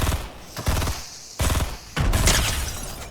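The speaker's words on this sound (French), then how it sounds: "Allez, je le canarde au fusil d'assaut." Assault rifle fire in a shooter video game comes in three loud rapid bursts separated by short pauses, close and without speech.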